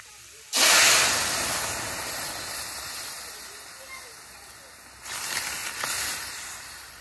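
Vegetable curry hits hot oil with browned onion and garlic, setting off a loud hissing sizzle that bursts in suddenly, settles into a steady sputter, then flares again as the mix is stirred.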